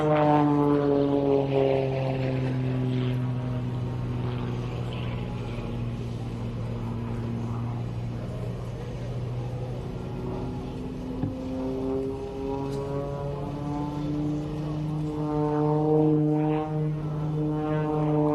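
An aerobatic airplane performs at a military air and space show in Utah, its engine and propeller making a loud, steady drone that slowly shifts pitch throughout as it manoeuvres overhead.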